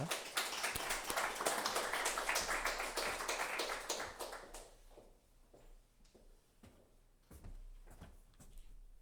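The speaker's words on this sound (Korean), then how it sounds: "따뜻한 박수로 모시겠습니다" A church congregation at a Wednesday worship service applauds to welcome the pastor, a dense wash of clapping that is loud at first, then thins to a few scattered claps and fades out.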